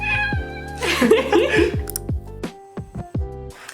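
A house cat gives several close, loud meows in quick succession, with one drawn-out, wavering yowl in the middle.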